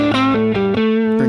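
A cranked electric guitar through a tweed amp model on a Helix, a loud distorted chord followed by a few sustained gritty notes changing pitch.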